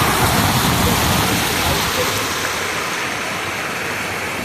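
Steady, dense rain pours down throughout, a continuous hiss with a low rumble beneath, loud and unbroken.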